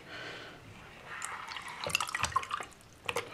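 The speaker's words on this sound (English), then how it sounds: "See, there's still more bubbles coming from the trapway." Air bubbles and water gurgle up from the trapway of a homemade toilet, a run of small drips and bubbling pops that grow busier toward the end, close and fairly quiet.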